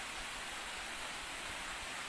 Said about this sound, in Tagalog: ang lakas ng ulan dun sa labas